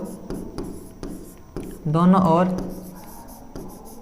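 Writing on a board during a maths lesson makes rhythmic scratchy strokes at a steady pace, close by. A voice speaks briefly midway.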